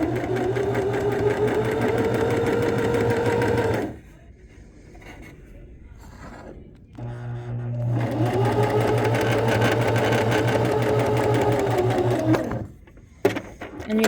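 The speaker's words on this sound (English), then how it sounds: "I'm going to sew right down the middle of this little fold" A sewing machine stitches straight down the middle of a folded-over fabric seam sample in two loud, steady runs, separated by a few seconds of quieter handling with the motor stopped, then a brief final burst.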